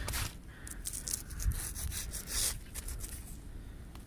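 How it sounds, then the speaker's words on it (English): A coin dug up while beach metal detecting on the Scottish coast is rubbed clean by hand, soft scratchy rubbing strokes in short bursts, quiet and close. "I'm just going to rub it."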